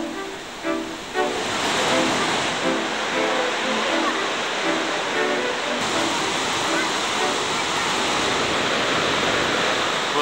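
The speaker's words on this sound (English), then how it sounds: "Those were the Aratia Rapids" Rushing water of the Aratia Rapids, a loud broad continuous roar of churning whitewater, steady throughout with a faint rhythmic rumble in the first seconds.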